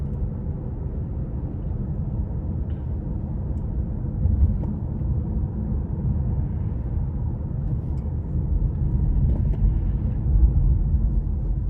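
Steady low engine drone and road rumble from inside a 2021 Cadillac CT5 Premium Luxury with the 2.0 engine while driving, a continuous even hum with slight swells, no talk.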